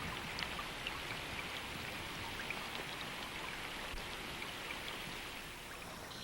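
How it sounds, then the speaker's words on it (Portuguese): Heavy rain pours steadily during a rainstorm over flooded plains and lakes, a dense, even hiss of downpour without pauses or voices. "E à medida que a tempestade de chuva continua"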